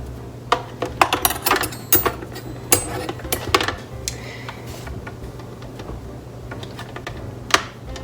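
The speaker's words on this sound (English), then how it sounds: "I have been struggling with setting up this whisk for 5 minutes." Whisk attachment being handled and fitted onto a stand mixer while baking pink Christmas cookies, giving scattered sharp metallic clicks and taps in irregular bursts, close and fairly quiet, with a steady low hum underneath.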